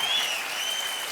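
A studio audience at a Hindi TV game show breaks into steady, dense applause, a brief burst of many hands clapping together with no voices over it.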